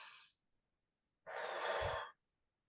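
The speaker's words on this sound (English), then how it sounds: "So you take a nice couple of deep breaths in" Two deep, slow breaths heard up close in a quiet room, one exhale trailing off at the start and then a longer audible breath, alone without speech.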